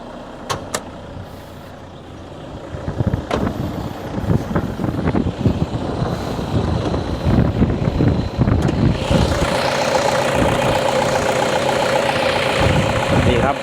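A Toyota pickup truck's diesel engine idles steadily with a low, even rumble that grows louder and fuller partway through, after a few sharp clicks at the start.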